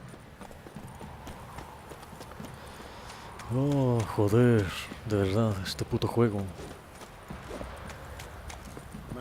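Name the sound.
horse hooves trotting in The Witcher 3 video game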